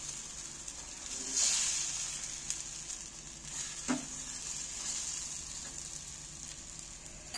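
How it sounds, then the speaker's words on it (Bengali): A ladle stirs food frying in butter in a pan, giving a quiet steady sizzle with occasional scrapes and soft knocks, close and low in level. "হাতাটা দিয়ে চালিয়ে দিচ্ছি আমি।"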